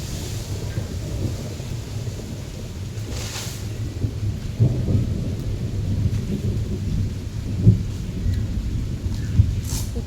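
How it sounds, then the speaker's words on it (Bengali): Steady rain falls outdoors, its broad constant hiss joined by a few low rolling rumbles of thunder, with some wind buffeting the microphone and no speech. "কেমন একটা বিচ্ছিরি ওয়েদার, বৃষ্টি আসছে।"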